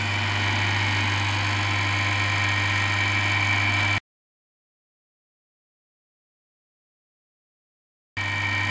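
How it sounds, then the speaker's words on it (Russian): A three-phase electric motor runs steadily, switched on through a four-pole residual current device, giving a constant low hum with a strong tonal drone for about four seconds, then abrupt silence before the hum briefly resumes. "Двигатель работает."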